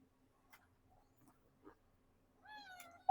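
A cat meows close by, a drawn-out, wavering call near the end, after quieter rustling and faint background hum.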